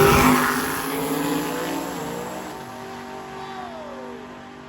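Drag-and-drive street race cars launch down the drag strip at a Southeast Street N Yeet event, a loud engine roar with a high whine that fades steadily as the cars pull away.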